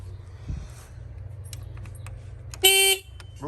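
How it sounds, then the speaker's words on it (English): A cheap Chinese quad bike's horn gives a single short, loud electric beep after a few seconds of quiet low background hum. "Oh, that's the horn."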